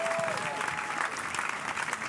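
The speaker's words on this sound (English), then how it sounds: "Give yourselves a massive round of applause." A comedy show audience applauding itself, a short burst of full, steady crowd clapping with a faint whistle near the start.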